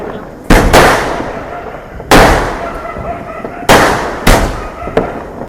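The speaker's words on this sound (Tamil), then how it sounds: "பட்டாசுலாம் நல்லா வெடிச்சு முடிச்சிட்டோம்" Diwali firecrackers bursting nearby, several sharp loud bangs a second or more apart, each followed by crackling and echo.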